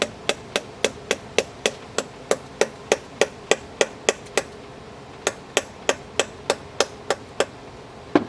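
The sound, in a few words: light hammer taps removing steel shunts on a generator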